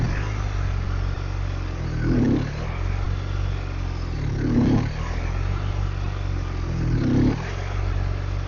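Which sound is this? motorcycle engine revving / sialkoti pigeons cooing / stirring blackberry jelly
motorcycle engine revving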